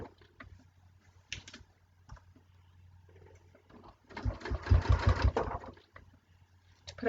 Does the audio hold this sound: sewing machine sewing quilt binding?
yes